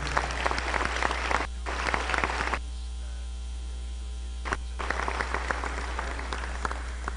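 Audience applause at a high school academic awards ceremony honoring senior students, with bursts of clapping broken by a quiet gap, all over a steady low electrical hum.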